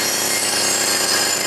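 Chainsaw from a Jimmy Neutron cartoon, a steady, loud, buzzing roar that runs unbroken through the whole short moment with no talking.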